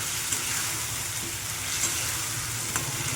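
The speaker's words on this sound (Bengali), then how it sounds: "ভালো করে মশলাটা ভেজে নিতে হবে এবার আমি আলুগুলো দিয়ে দেবো" Spice masala frying in a pan gives a dense, continuous sizzle, close and steady, with faint scrapes here and there as potatoes join the hot oil; nobody speaks.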